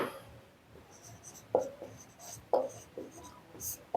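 Marker or chalk strokes on a board during an economics lecture, a few distinct scratchy writing bursts about a second apart, close and moderately loud over a quiet room.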